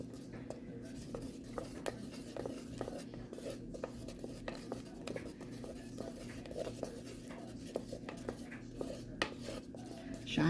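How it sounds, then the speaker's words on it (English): A spoon scrapes and clinks softly against a pot while fudge is stirred continuously, with irregular light taps and rubbing over a low steady hum from the stove area, faint and close. "Just keep stirring and stirring and stirring."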